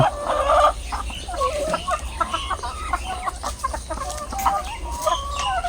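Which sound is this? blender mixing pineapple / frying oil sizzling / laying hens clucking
laying hens clucking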